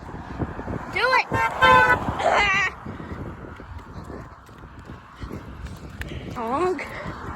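A car horn sounds in a short honk amid street traffic, with a person's voice chattering excitedly over it and another faint toot later.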